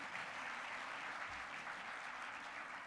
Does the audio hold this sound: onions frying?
no